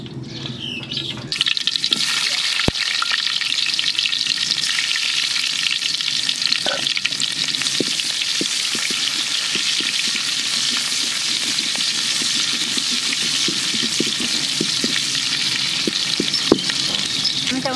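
Bottle gourd cooks in a hot pan in a village kitchen, giving a steady loud frying hiss with occasional scrapes and clicks of stirring, while birds chirp faintly in the background and no one speaks.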